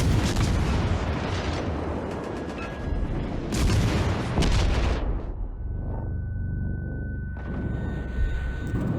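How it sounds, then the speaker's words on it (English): Heavy warship guns boom in World of Warships, with loud, dense cannon blasts and explosions at the start and midway, a torpedo hit, and rumbling aftermath between volleys. "While shooting away, one of the torpedoes we sent earlier hits the enemy Yamato and she is gone."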